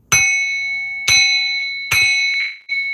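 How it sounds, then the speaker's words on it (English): A hand bell is struck three times in a quiet room, each loud, bright ring decaying before the next, alone with no talk. "I'm going to ring this bell to clear and remove all negative energies"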